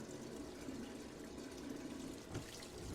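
Water running from a tap into a 5-gallon container for chickens, a steady, faint gushing fill with a slight burble, continuous and unaccompanied.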